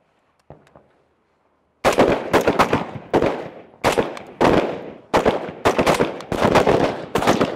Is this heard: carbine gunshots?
yes